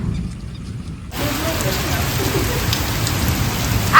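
Rain starts abruptly after a quiet moment and then falls steadily and loudly on surfaces nearby, a dense hiss of drops that continues to the end.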